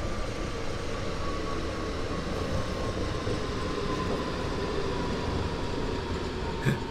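An S8 train runs on the Rhein Ruhr Osten route in a train simulator, producing a steady, continuous rumble and rolling drone with a faint whine, even and unbroken throughout, with no talk over it.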